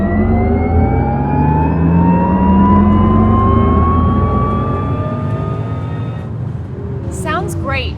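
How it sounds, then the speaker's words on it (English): Porsche Taycan electric motors giving a rising, modulated whine that climbs steadily in pitch like an accelerating car, loud and sustained, then fading with a brief chirping sound near the end. "it picks up the natural sound of the electric motors and modulates it"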